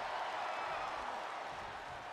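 A video game arena crowd in WWE 2K24 roars in a continuous, even wash of cheering and applause, faint and distant with no distinct individual voices.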